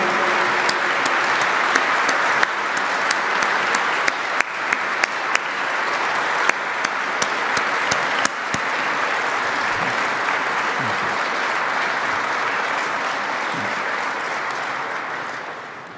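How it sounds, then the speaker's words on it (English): Troops applauding spouses, kids and parents at a vice president's address to US troops, sustained rousing clapping from a large crowd with a few sharp louder claps early on and faint murmuring underneath. "So while we give a rousing round of applause to the 10th"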